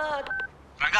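Brief cell phone keypad tones, a few short beeps within a second, sound from a toy in a comedy scene, with voices close by.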